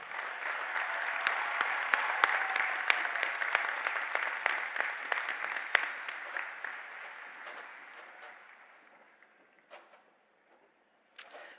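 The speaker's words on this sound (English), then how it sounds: "giving them a round of applause" Graduation ceremony audience applauding at a high school commencement, a large crowd's dense clapping held steady for about eight seconds before thinning into a few scattered claps and a last isolated burst.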